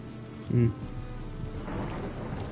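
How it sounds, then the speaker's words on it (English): Rain and rumbling thunder from a storm in The Witcher 3 video game, a low burst of thunder near the start followed by a steady wash of rain, with faint game sounds underneath. "A storm, damn it."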